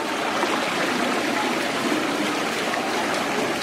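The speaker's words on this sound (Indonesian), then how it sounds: "Snow White minum air pancuran." Water runs steadily from a fountain spout, a continuous close splashing trickle lasting throughout with no talk over it.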